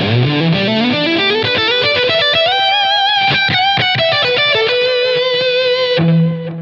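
An electric guitar played through a Line 6 Helix Ratatouille distortion: loud, saturated, continuous riffing that climbs upward in pitch, moves through dense chords and accented strikes, then settles onto a single held low note that fades out.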